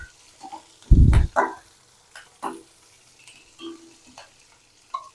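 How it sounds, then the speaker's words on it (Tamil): Green chillies fry gently in a pan on low flame, with a few sharp stirring clatters and scrapes, one loud knock, and soft sizzles in between. "அடுத்ததா காரத்துக்கு பச்சை மிளகாய் எல்லாம் நல்லா லோ ஃப்ளேம்ல எடுத்துருக்கட்டும்."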